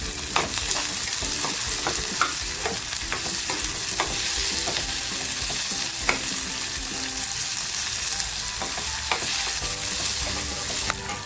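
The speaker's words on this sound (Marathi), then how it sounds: "मिरची आणि लसूण टाकते आणि हे सुद्धा साधारण परतवून घेते फक्त टॅमॅटो घेतला होता तो टॅमॅटो टाकते" Green chili, garlic and tomato sizzle steadily in a hot pan for a Pomfret fish curry, with a continuous frying hiss and scattered scraping strokes of a spatula stirring, no talk.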